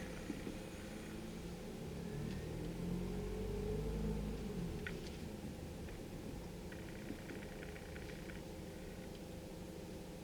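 Road traffic rumbling past at moderate distance, a low continuous wash of car engines with one vehicle swelling louder midway, faint and without voices.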